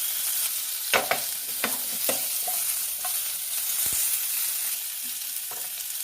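Cumin spices sizzling and frying in ghee butter in a pan for chicken makhani, a constant hiss punctuated by sharp clinks and stirring scrapes as they are tossed.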